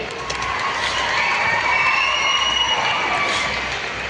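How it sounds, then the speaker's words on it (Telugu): Audience applause at a national karate championship event, a dense steady wash of clapping and crowd noise lasting throughout, loud and close with no pauses. "చప్పట్లు."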